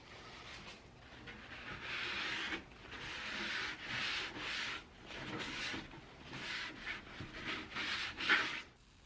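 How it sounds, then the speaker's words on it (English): Sandpaper around 180 to 220 grit rubs over dried Bondo filler on a Mandalorian helmet, making a fairly faint, rhythmic series of back-and-forth scratchy strokes. "hit it with a mid-range sandpaper, 180, 220, somewhere around there."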